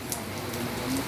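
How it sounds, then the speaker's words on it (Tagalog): Rain falls outdoors as a brief, steady patter of drops on surfaces, a close, even wash of noise with a faint voice in the background. "It's rain."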